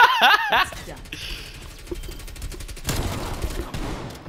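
Shotgun blasts in a video game ring out with a sharp crack early on, followed by scattered softer shots and impacts, while players laugh and talk over the action.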